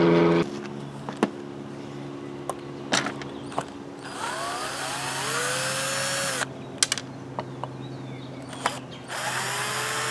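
A power tool, likely a drill or driver, backs screws out of an unidentified device, giving short whirring runs and a long grinding stretch that rises in pitch, broken by sharp clicks and small knocks, close and alone.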